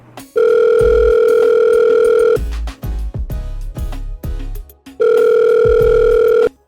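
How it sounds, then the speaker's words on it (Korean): A telephone plays a loud steady tone twice, with short tone bursts in between, as a phone call is placed before anyone answers. "오늘 얘기 시작하기 전에 전화통화 하나 들어보겠습니다"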